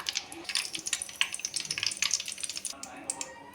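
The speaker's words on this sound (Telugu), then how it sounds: "ఇప్పుడు ఇందులో ఒక 2 పచ్చిమిర్చి ఇలా చీలికలుగా చేసుకొని కొంచెం ఫ్రై చేసుకుందాము." Slit green chillies frying in hot oil for a Godavari small fish fry, a busy crackling sizzle with rapid popping bursts at close range, fairly quiet overall.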